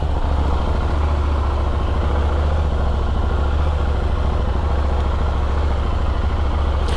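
A KTM Duke 890 motorcycle idles in neutral with a loud, close, steady low engine rumble that stays even and unbroken throughout.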